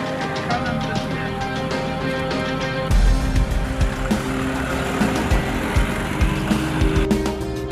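A car drives along a road toward a mountain river, its engine hum and tire rumble steady throughout, with a heavier rough rumble from about three seconds on, close and continuous with no talking.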